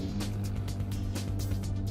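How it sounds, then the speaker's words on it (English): Ferrari 335 S racing engine in the Assetto Corsa racing game, a loud, steady, continuous drone held close with no speech over it. "This is a very fast car and it also sounds absolutely gorgeous."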